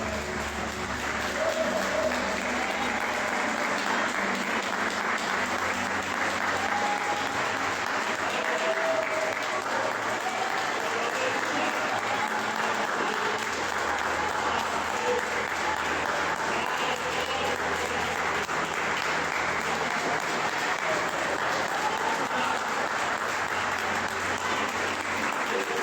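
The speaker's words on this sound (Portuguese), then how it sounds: "Você pode aplaudir o Senhor com as palmas?" Church congregation clapping to the Lord during a praise and worship service, a long, steady stream of hand claps with faint music and a few voices mixed underneath.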